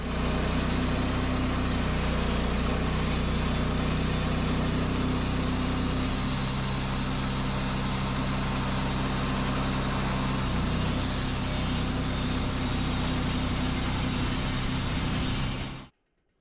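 A gas-engine sawmill runs steadily as its new blade cuts through a live-edge log on a slight slope, a loud continuous drone with a shift in pitch partway through before stopping abruptly at the end.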